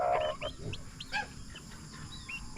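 Turkey chicks and chickens on a farm cheep and cluck, with short high peeps and a louder cluck at the start, fairly close and without talk.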